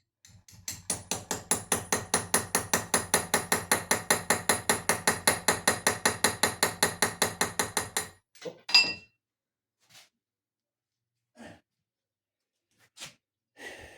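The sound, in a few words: knife chopping through nails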